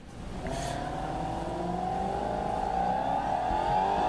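A racing car in BeamNG.drive revs hard and climbs steadily in pitch as it accelerates at full throttle, loud and continuous, with a synthetic game-like quality.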